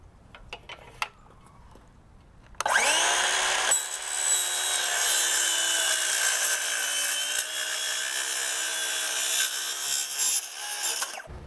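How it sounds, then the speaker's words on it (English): Power saw cutting through the metal track of a motorized window screen from the back side. It runs loud and steady for about nine seconds after a few brief knocks, with a continuous whining buzz. "always remember to cut from the back side of the track"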